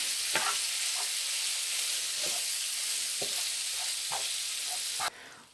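Sausage and several garlic cloves sizzling in a pan for sausage gravy, a steady close frying hiss broken by a handful of scraping stirs, with no talking.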